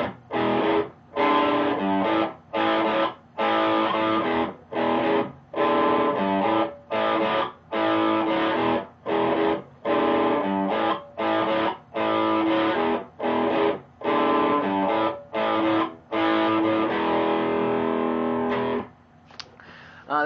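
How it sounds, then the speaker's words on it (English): Heavy blues riff on a distorted electric guitar, played alone as a loud run of chopped, rhythmic chord stabs with brief gaps between them, ending in a short sustained tail. "Here, let me put the distortion on."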